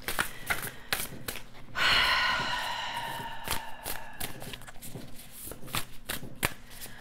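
Tarot cards being shuffled by hand in a quiet room, a steady run of soft riffling and papery flicks with a longer burst of card friction in the middle, close and alone with no talking.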